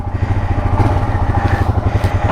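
Royal Enfield Himalayan BS6 motorcycle engine thumping steadily at close range on a short ride, a rhythmic low pulsing with no talk.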